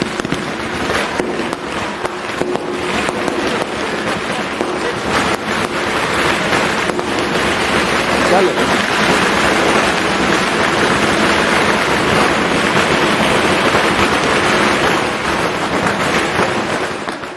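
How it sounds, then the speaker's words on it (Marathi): A long, dense barrage of firecrackers at a political speech event crackling and popping continuously, loud and close, with rapid overlapping bursts. "म्हटल्या म्हटल्या माग फटाके चालू झाले"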